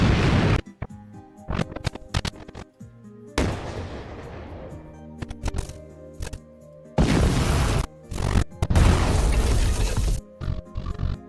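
Explosion sound effects picked for an animated scene: several loud, bursty blasts with deep rumbling tails and short silent gaps between them, played back one after another with no talk.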